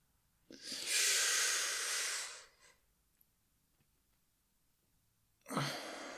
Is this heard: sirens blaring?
no